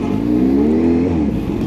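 A supercharged Kawasaki ZH2 motorcycle with a loud aftermarket exhaust revs close by, a deep, sustained engine tone that rises in pitch and then falls back within about two seconds.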